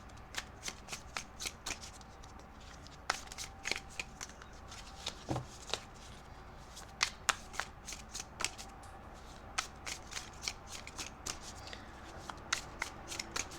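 A deck of tarot cards being shuffled at close range, a steady stream of crisp, papery riffles and flicks that runs the whole time with no talking.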